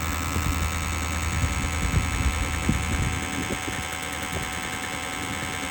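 Contact points of an electrostatic 3-D printer motor buzzing, a steady dense electrical buzz with faint irregular crackles, moderately quiet and continuous, heard alone without talk.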